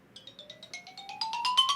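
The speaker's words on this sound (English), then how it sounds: "I think my phone was just ringing." A mobile phone ringing with a bright, rising melodic ringtone, fairly quiet and getting slightly louder over about two seconds, with no voices.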